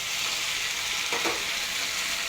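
Bay leaf, whole cumin seeds and ground ginger-green chili paste hitting hot mustard oil, a dense, even sizzle up close that holds steady throughout with no voices.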